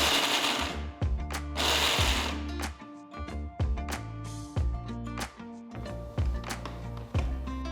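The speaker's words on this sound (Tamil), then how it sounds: "வால்நட்டை மிக்சியில் போட்டு நல்லா கொரகொரப்பாக அரைச்சிக்கலாம்" Mixer grinder blitzing walnuts coarsely in short pulses, each burst a loud whirring grind separated by brief pauses, with rattling pieces in the jar.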